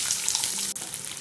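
Cumin seeds, green chilies and sliced onion sizzle in hot oil in a pan: a short, close, steady crackling hiss with no talking.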